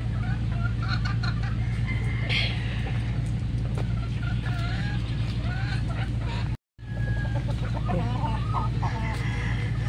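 Sweater breed chickens in breeding pens clucking and calling repeatedly over a steady low background hum, with a brief dropout near the end and no talk.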